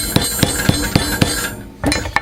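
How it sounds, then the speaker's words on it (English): A hammer strikes folded leather edges of a handmade knife sheath in a steady series of five sharp, close taps at even intervals, then a short pause and two more blows. "And hammer these down a little bit so they're folded."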